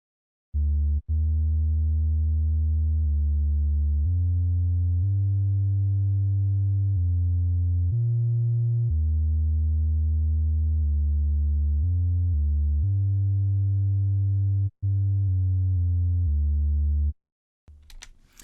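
Thick, low synth bass line from Reaktor plays held notes that shift in pitch with short gaps between phrases. It is smooth and steady, with no voice over it, and cuts off near the end.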